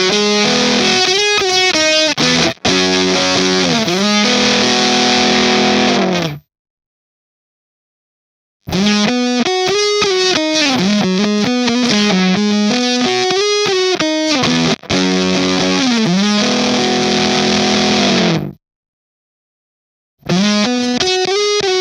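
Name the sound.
guitar through Fuzz Factory fuzz pedal, switching sound character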